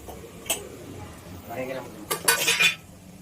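Bread pieces being stirred into garam masala in a pan, with a few sharp spoon-on-metal clinks and scraping bursts, the loudest cluster near the end, over quiet kitchen background.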